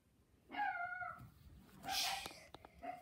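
A dog gives two drawn-out whining howls close by, each rising and falling, separated by a pause, with a brief shorter yelp at the end in a quiet room.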